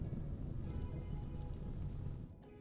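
Rain falls in RimWorld as a steady, dense hiss of drops on surfaces. It holds evenly, then eases just before the end.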